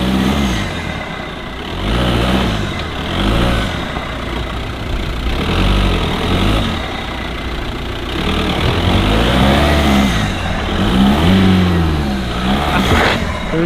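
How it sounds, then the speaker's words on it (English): A stuck car revs its engine hard in surging bursts while its wheel spins, off-roading in a scrappage-scheme graveyard of classic cars; the loud, close engine rises and falls repeatedly without letting up. "The car's stuck, so how do we get off? It's his wheel that's spinning."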